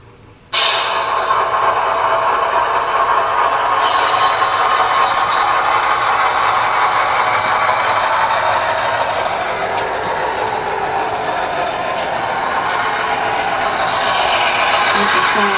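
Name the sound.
small train engine running by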